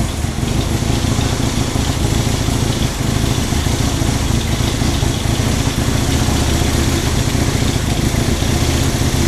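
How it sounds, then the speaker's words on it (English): A Honda CB175 motorcycle engine idles steadily at about 2,000 rpm, a close, loud and even mechanical chugging that runs unbroken with no voices. "I'm idling right about 2 grand."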